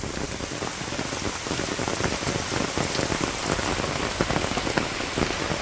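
Rain pours steadily on surfaces in a Bangladeshi village during the rainy season, a dense, continuous patter of drops with no voices.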